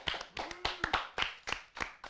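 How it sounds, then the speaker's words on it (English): A few people in a TV studio clap for a winner, sparse, distinct handclaps in an uneven rhythm, fairly quiet, with a brief voice tone mixed in. "Round of applause in the studio."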